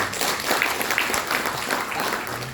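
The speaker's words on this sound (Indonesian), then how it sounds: "Tepuk tangan buat kita." Applause from an audience at a business opportunity presentation, a steady dense patter of many hands clapping throughout at moderate level.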